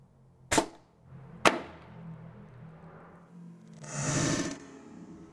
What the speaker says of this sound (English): we're gonna shoot it with the rifle and see if the pellet goes all the way through or gets stopped